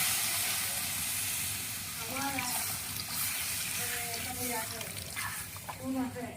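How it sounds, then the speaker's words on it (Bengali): Water is poured into a very hot pan for a fish curry of fresh tengra fish and potatoes, making a soft, continuous splashing hiss with steam, while a person talks briefly. "এই যে পানি আমরা দিয়ে দেবো পরিমাণ মতো।"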